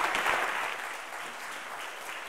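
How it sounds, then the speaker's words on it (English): A chapel congregation applauds university singers, a dense, steady wash of clapping that starts full and eases slightly over a couple of seconds. "Have one more round of applause for university singers"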